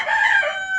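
A rooster among rooftop-raised chickens crows loudly and close, a single sustained, bright call that carries for nearly a second on its own.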